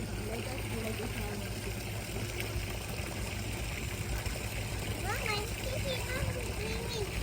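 Water from a shower at a hotel swimming pool splashes in a constant loud wash, with children's voices and adult talk mixed into the noisy outdoor setting.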